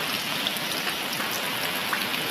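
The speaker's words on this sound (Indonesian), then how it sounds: "masih gerimis" Light drizzling rain falls steadily after a flood, a dense even patter of fine drops with a constant hiss and no talking.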